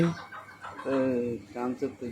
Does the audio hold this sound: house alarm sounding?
no